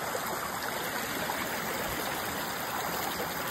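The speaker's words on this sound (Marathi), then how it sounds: "हेच पाणी असं खाली जातं" Water pours and gushes steadily through holes in stone at a temple site in Kolhapur, a constant loud rushing and gurgling flow with no speech over it.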